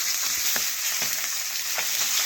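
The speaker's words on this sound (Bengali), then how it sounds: "মাছের এক পাশ ভাজা হয়ে গেছে, এখন আরেক পাশ ভেজে নেব। দেখুন উল্টে নিলাম" Fish heads frying in hot oil in a pan, a continuous bright sizzle with a few soft clatters as the pieces are flipped, heard alone with no talk.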